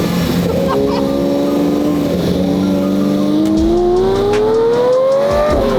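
A Lamborghini Murcielago SV engine revs and climbs steadily in pitch, loud and close, with a roaring exhaust note throughout.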